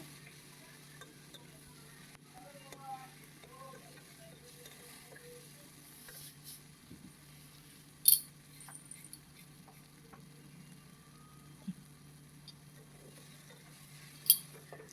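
Tomatoes and salt frying in a pan, a quiet steady sizzle under slow stirring, with a few sharp clinks of the spoon against the pan standing out now and then.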